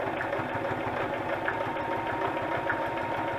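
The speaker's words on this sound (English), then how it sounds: "And I guess we'll just keep sewing until my thread runs out" A sewing machine runs steadily, stitching a junk journal cover in a woodland theme, with an even, continuous mechanical whir and rapid needle rhythm close by throughout, no voices.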